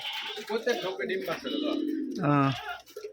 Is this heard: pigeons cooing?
yes